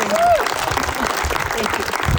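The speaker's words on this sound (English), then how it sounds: "So let's give Resnick a round of applause" Applause from an audience at a school ribbon-cutting ceremony for a student-run aeroponic tower farm, a dense steady patter of clapping with a brief voice over the start.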